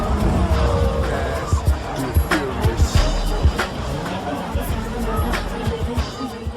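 Cars at an illegal street race rev and skid close by, engine roar and tire noise mixed with crowd chatter and a voice talking over the scene.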